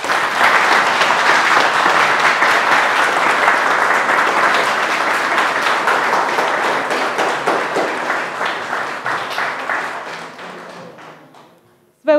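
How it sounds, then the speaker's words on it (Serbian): Audience at a children's summer music camp concert (Timok 2022) claps loudly and continuously for the young performers, a sustained wall of applause that slowly thins toward the end before a brief closing sound. "I verujem da su zaslužili još jedan zaista veliki aplauz."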